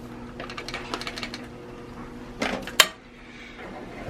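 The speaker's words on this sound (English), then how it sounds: "And give that a stir." A spoon scraping and clinking in a pot of boxed mac and cheese with butter and the cheese packet, a run of quick metallic taps followed by a few louder knocks, close and unaccompanied.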